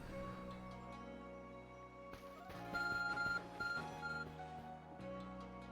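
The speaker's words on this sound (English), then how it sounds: "My phone's beeping." Phone beeping in Pokemon Legends: Arceus, a few short electronic tones over steady game music, fairly faint.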